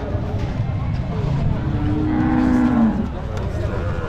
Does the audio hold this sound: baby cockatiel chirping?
no